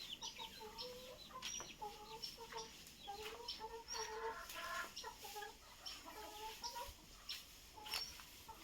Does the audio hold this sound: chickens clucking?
yes